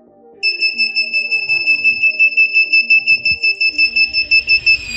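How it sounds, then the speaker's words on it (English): A continuous beeping alarm from an Arduino laser tripwire security setup sounds loud and steady, with two sustained tones pulsing in a quick regular rhythm for several seconds, alone without speech. "whenever the laser is not there, the alarm will beep"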